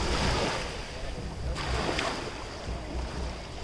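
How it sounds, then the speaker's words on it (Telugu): Loud, roaring surf at Kanyakumari's sunset point churns and rushes in continuously, with wind buffeting and swells of turbulent water washing close by. "ఇక్కడ వాటర్ మాత్రం బీభత్సంగా మీద వచ్చేస్తుంది"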